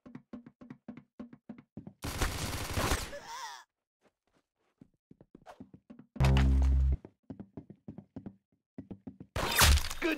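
Gunshots in a 1v1 match of a mobile shooter game ring out as three loud, broad blasts spread across the stretch, with short clicks and vocal sounds in between.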